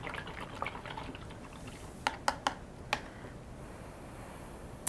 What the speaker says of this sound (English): I'm gonna rinse my brush off.